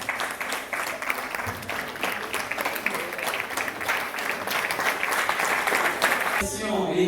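An audience at an international school ceremony applauds in a dense, sustained wash of clapping that holds for several seconds, then ends abruptly.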